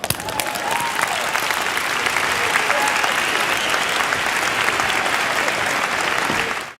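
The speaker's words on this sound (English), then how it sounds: "Give them a round of applause." An audience gives sustained, loud applause at a speaking event, dense clapping filling the room steadily before cutting off abruptly at the end.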